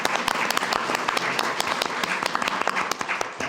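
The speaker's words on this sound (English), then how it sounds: "So give them another round of applause." A council meeting audience claps steadily, a dense mix of close and distant hand claps held at an even level from start to finish.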